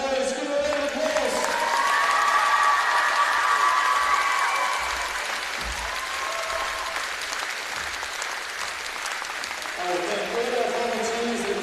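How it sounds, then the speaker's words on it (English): Crowd applause and cheering at a women's football grand final, sustained clapping from a gathered crowd with a voice talking over it on a loudspeaker. "Make some noise, give a round of applause."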